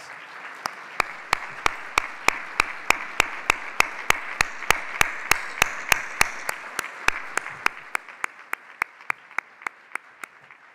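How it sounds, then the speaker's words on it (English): A gala audience applauds in a steady, evenly spaced clapping rhythm with sharp individual claps standing out, holding loud for most of the stretch and then thinning toward the end. "Let's give them a round of applause."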